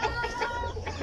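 Silkie chickens in a backyard flock cluck softly up close, several short murmuring calls overlapping in a quick burst while waiting for morning feed.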